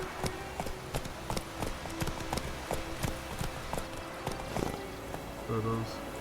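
Horse Roach trotting in Witcher 3, steady clip-clopping hooves with a quick regular rhythm, close and clear. A brief low vocal sound near the end.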